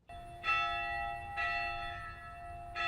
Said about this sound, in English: a bell calls the Sisters of St. Benedict to noon prayer